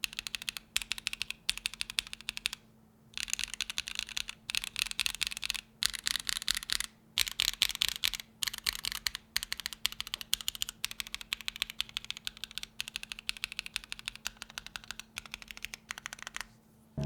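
Crisp, rapid clicking of a small foamless numpad keyboard with lubed stabilizers, typed in steady bursts with short pauses, close and fairly quiet with a faint low hum underneath.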